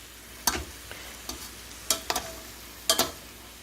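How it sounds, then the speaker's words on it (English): A spoon stirs cabbage and ground meat in a pan, giving five or six sharp scraping strokes in an uneven rhythm over a soft, quiet sizzle, close up with no talking. "we're going to give this all a stir"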